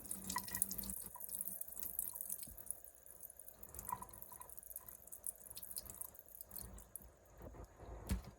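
Water drips and trickles steadily from washed sprouting vegetable sprouts as they drain, faint and close, with small irregular droplets and splashes throughout.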